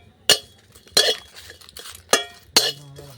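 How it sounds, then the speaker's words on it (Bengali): Dried red chilies, bay leaves and whole coriander seeds being stirred in a dry wok, giving sharp metallic scrapes and clinks in four separate strokes with quieter rattling between them. "শুকনো কড়াই কিন্তু নেড়ে নিচ্ছি"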